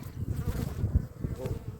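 Bees of a weak colony humming at their hive, a steady low buzz with fluctuating swells close by, alone without talk.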